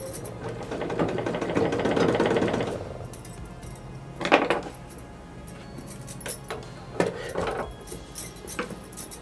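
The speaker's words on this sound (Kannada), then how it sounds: "ನೋಡಿ ಇಲ್ಲಿ ಕೂಡ ಒಂದು ಹೊಲಿಗೆ ಹಾಕೊಳ್ಳಿ" Sewing machine stitching a shoulder cut blouse, a fast steady whirring run of stitches at the start, then pauses broken by a few short bursts and light clicks.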